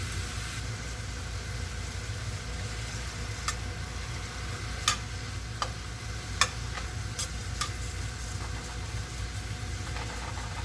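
Beef and mushrooms cook down in a pan with a soft, steady sizzle, broken by a few sharp ticks and pops over a low background hum.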